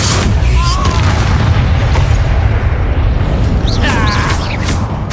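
Spell blast from the Expulso charm in Hogwarts Legacy, a loud sustained booming explosion roar filling the whole stretch with crackling debris, brief whooshing spell sounds above it.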